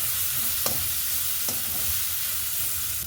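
Green chilies frying with onion, ginger and garlic in a pan, a constant close sizzle with two sharp stirring clinks.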